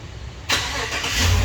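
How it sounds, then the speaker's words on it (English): A 2015 GMC Yukon XL SLT starting by remote: a quiet hum, then an abrupt jump as the engine catches about a third of the way in, settling into a steady close idle with low rumble building toward the end. "Those cold winter days, just fire your vehicle up with the push of a button."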